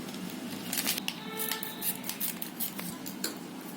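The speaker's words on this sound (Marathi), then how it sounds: "आता हे मी कापून घेते कैचीने कापून घेते" Scissors snip open a foil packet of Tang orange drink powder, giving a few quiet crisp cuts and crinkles close up, with no talking.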